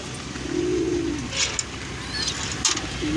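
Low, soft pigeon coos, one drawn-out call early and another at the end, over a steady wash of background noise, in a wet pigeon coop on a rainy day.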